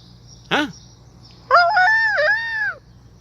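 A rooster standing by a car door gives a short sharp squawk, then a second later a full, loud, close crow lasting over a second, with quiet surroundings between.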